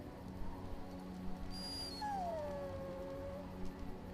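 A dog in the video game Dragon Age: Origins whimpers and lets out a drawn-out, falling howl, fairly quiet over a low background ambience.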